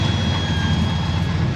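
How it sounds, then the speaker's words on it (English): Chevy 454 big block V8 in a square body Chevy dually truck, with an Edelbrock 1411 carburetor and a vacuum leak, idling with a steady low rumble and a faint high whine, close and continuous. "Not really sure where the vacuum leak is coming from right now, but it is idling"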